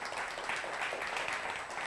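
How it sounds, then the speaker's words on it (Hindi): An audience at an anniversary celebration claps for the Air Force, a brief, steady wash of applause with no pauses and no clear voices. "एक बार हम एयरफोर्स के लिए ज़ोरदार तालियां देंगे"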